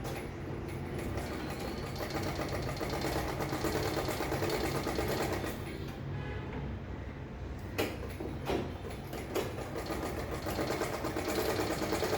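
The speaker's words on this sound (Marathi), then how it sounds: "आता ही बाजू पण अशी स्टिच करून घेऊ." Close, continuous whirring of a sewing machine as it sews a double stitch along the top edge of a piece of cloth, with a short pause partway through before the motor picks up again.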